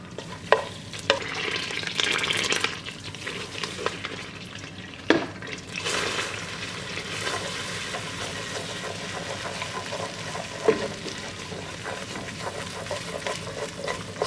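Strawberry gelatin is stirred into melted butter in a pan, giving a low continuous sizzle with scraping stir strokes and a few sharper clinks against the pan.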